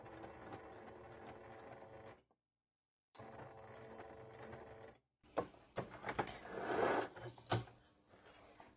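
Sewing machine stitching bias binding around a corner, with bursts of rapid mechanical clatter broken by two short silent pauses where the needle stops and the work is turned, then a louder final run.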